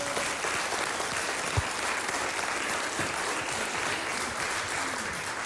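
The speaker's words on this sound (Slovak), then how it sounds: "Potlesk pre vás, áno" A studio audience at a Slovak TV quiz show breaks into sustained applause, a loud, dense clatter of many hands that holds steady throughout with a few sharper claps standing out.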